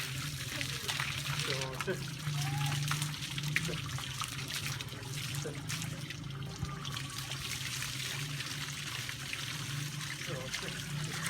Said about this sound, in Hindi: असलम भाई उससे एक पानी मार दो।